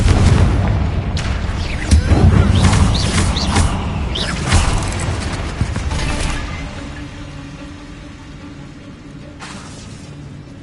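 Confringo fire spells in Hogwarts Legacy blast out as repeated booming explosions with rumbling impacts, loud and dense over several seconds before tapering into a quieter tail.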